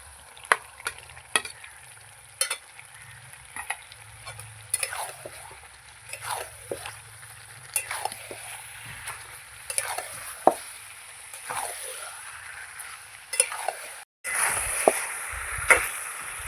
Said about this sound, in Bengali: আলু দিয়ে আমি আবার একটু ভালো করে কষিয়ে নিয়েছি